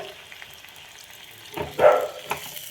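A spice tempering of chili flakes with a splash of water fries in a pan, a soft steady sizzle that swells into a louder crackling burst near the end.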